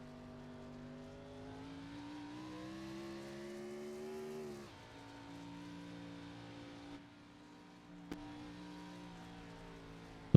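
Engine whine of an RC race car lapping a racetrack at a Chicago race round, with a steady high-pitched drone that rises in pitch, drops as it slows, then climbs again, with a brief bump near the end.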